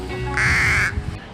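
Pet crow giving a single loud, harsh caw at close range, with people's voices murmuring in the background.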